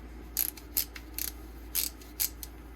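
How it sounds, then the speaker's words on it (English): A Thorson ratchet wrench clicks in short, crisp bursts, several quick ratcheting runs separated by brief pauses, close and fairly quiet. "This is a Thorson. It's a ratchet wrench."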